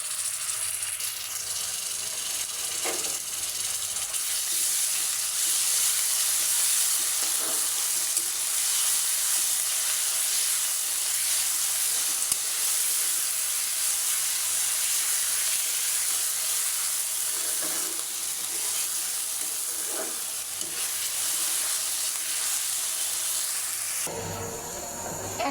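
Ginger garlic paste sizzles in a pan with chicken for a Bengali chicken curry with dal. A loud, steady frying hiss runs throughout with small stirring clicks, and no one talks.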